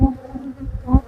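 Honeybees buzz at a hive in a quarantine apiary during an inspection. A brief, close, low droning hum swells and fades in short pulses.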